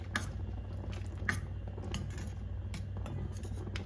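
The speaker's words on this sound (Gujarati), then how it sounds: "હવે આપણે મિક્સ કરી દઈશું અને આપણી ભાજી રેડી થઈ ગઈ છે" A spoon stirs and scrapes through thick pav bhaji in a pan, giving a run of close, irregular clinks and wet squishing over a steady low hum.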